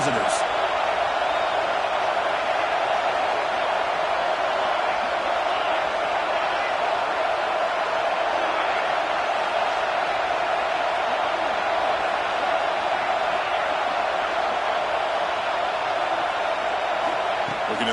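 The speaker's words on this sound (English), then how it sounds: "Listen to the crowd energy here in the early going." A stadium crowd roars in the College Football 26 video game, a broad, steady wash of crowd noise that holds at the same level throughout the clip, with a commentator talking over it.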